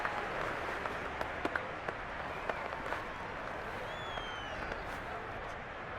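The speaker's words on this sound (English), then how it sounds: "How about some applause for the defense there?" Crowd applause and cheering in a simulated Madden 23 NFL game between the Browns and Panthers, a steady roar of stadium noise filling the whole stretch with a few sharper claps poking through.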